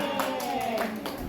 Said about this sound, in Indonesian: tepuk tangan buat Oma.